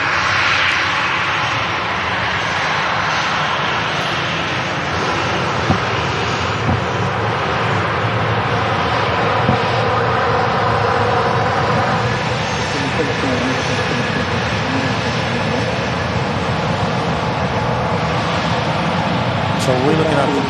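An Icelandair passenger jet takes off at Manchester Airport, its engines giving a steady, loud, broadband roar that holds for the whole stretch while people talk over it.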